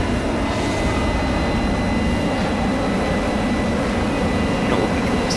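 Me 262 HG III jet engines roar in a steep dive in World of Warplanes, a dense, constant rushing whine that stays loud and unbroken throughout.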